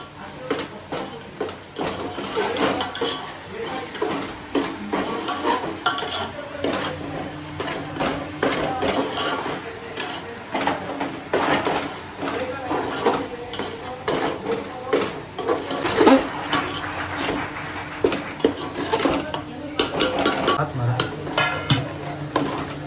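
Ground masala paste is stirred into a wet cashew curry in the Malvani style, with a spoon repeatedly scraping and knocking against the pot under a soft sizzle, in an irregular rhythm and at close range.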